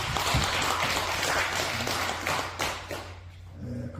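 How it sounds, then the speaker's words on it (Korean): A small congregation at a year-end church service claps in a steady, soft patter from a modest room. The clapping stays even for several seconds, then thins out toward the end. "박수 한번 드리겠습니다"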